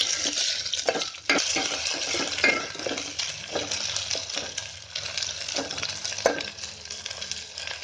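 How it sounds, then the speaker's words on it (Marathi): Chopped tomatoes fry in hot oil for a Konkani-style horse grain flour gravy, a continuous close sizzle punctuated by a spoon scraping and stirring against the pan. "आता टोमॅटो टाकलाय त्याचं चांगलं फ्राय व्हायला द्यायचं."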